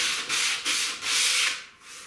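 Light hand sanding along the primed edge of an MDF board, giving a series of close, soft rasping strokes in a steady back-and-forth rhythm with no talk.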